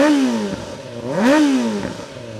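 2023 Kawasaki ZX-4RR KRT 400cc four-cylinder sportbike, warm and idling in neutral, is revved twice in quick blips, its high-pitched engine note rising and falling loudly up close.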